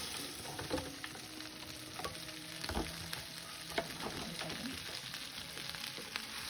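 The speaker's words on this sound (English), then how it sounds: "you're just gonna cook this until the spinach gets a little wilted" Baby spinach cooking with garlic in a pan, giving a faint steady sizzle with occasional soft clicks of a utensil, quiet and close, no talk.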